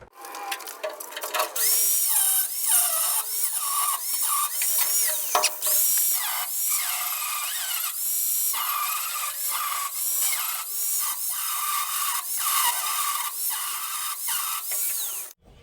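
A power tool cuts slots through bolt heads on a 1976 Ford F150 during rear suspension lowering work, a loud continuous high-pitched grinding whine that rises and dips with short pauses, close and alone.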